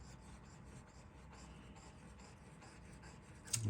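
A Parker Duofold Junior fountain pen nib glides across paper in a continuous, faint scratchy rasp of close, quiet strokes with a brief bump at the end.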